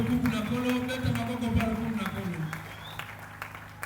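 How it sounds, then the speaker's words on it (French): A church congregation at a communion service claps steadily. The applause is loud and sustained under a singing or shouting voice, then thins out toward the end. "Acclamons très fort pour la gloire."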